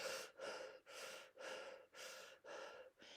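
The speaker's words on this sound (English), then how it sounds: "So it's like a circular breathing" A person does connected circular breathing through the mouth during a shamanic breathwork ceremony, with no pause between breaths. About six loud, close breath cycles follow in a steady rhythm, each rushing and airy, separated only by brief dips.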